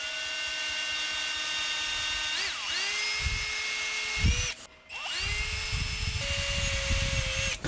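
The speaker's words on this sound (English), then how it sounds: "I'm going to use a 1/16 inch drill bit, drill down" A power drill with a 1/16 inch bit bores into a guitar headstock, its bit marked with tape as a depth stop. The steady high whine dips in pitch as it bites, stops briefly midway, then whirs on.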